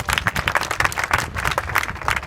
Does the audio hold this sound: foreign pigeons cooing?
no